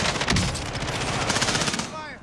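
Rapid bursts of automatic gunfire rattle through a tense multiplayer shooter match, dense and loud across the whole moment before trailing off into a ringing tail.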